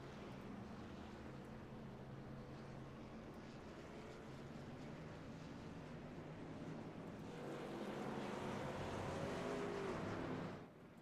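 Race trucks at Texas Motor Speedway in the iRacing sim roll out onto the track, a steady droning engine hum that swells louder toward the end before dropping off, faint and continuous.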